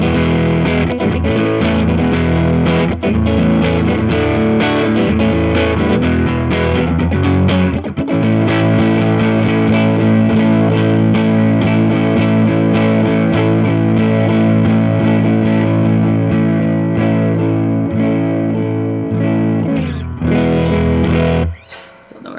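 Electric guitar driven through an Earthquaker Devices Special Cranker overdrive pedal, also paired with a germanium setup, playing loud, continuously distorted chords and riffs that cut off sharply at the end.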